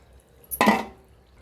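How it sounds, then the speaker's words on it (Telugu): A short, quick splash of water poured into a pan, a single burst lasting under half a second, then quiet. "ఇప్పుడు మనం వాటర్ పోసుకుందాం"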